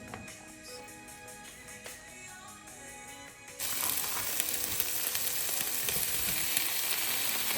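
Marinated lamb chops frying in a pan without added oil, first a soft, faint sizzle, then a sudden jump to a steady, louder crackling hiss that continues evenly, with no one speaking.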